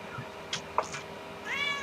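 A cat lets out a couple of short, faint meows, the last one drawn out and rising, heard briefly against a quiet indoor background.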